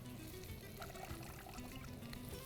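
Soaking water poured off little millet rice in a kitchen, a soft continuous trickle and splash of liquid at low level throughout, with no talking.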